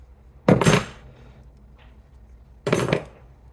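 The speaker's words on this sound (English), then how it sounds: "I'll just use another pair of pliers on the end here and just be able to really apply some pressure" Pliers crimp a marine-grade heat shrink wire connector in two sharp metallic bursts about two seconds apart, close and fairly loud, with quiet handling between.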